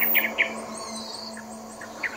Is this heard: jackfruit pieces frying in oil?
no